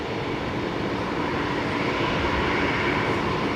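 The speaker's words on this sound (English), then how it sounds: "There's that 737-300 we saw arriving a little bit earlier on." A Boeing 737-300 airliner roars loudly and steadily at Brisbane Airport, a broad, unbroken jet engine rumble close by for a few seconds.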